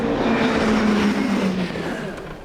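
A sports car engine rumbles loudly and revs, its note rising and holding before easing off slightly toward the end, heard up close without talk.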